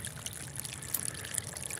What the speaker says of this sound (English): I'm getting this much water put in the pond right now.